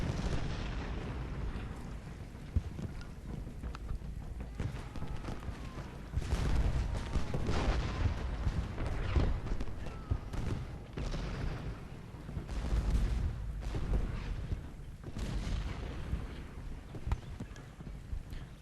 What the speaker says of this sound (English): These guys seem to become under heavy artillery fire as well.